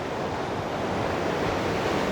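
River water crashing through the rocky gorge at the Punchbowl on the Mar Lodge Estate, a dense continuous roar, loud and close, with no voices.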